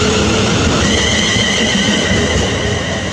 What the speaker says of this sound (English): And now departing is the 1535 London North Western services to